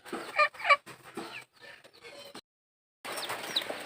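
Native chickens clucking inside a low-cost breeding coop, several close, uneven calls in bursts, then a short silence before more clucking and scratchy movement resumes.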